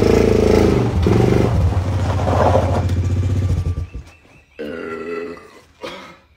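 A long, loud, rumbling burp from a man standing beside a four-wheeler, swelling for several seconds before trailing off, followed by a shorter second belch.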